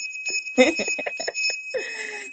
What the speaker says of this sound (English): we got to ring a bell